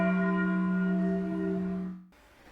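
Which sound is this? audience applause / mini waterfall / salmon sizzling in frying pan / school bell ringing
school bell ringing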